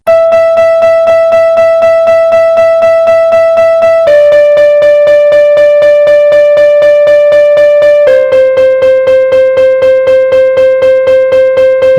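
Semiquaver notes on a pitched instrument: fast, evenly repeated tones holding one pitch, then dropping to a lower pitch twice. The notes are loud and close, with no voices.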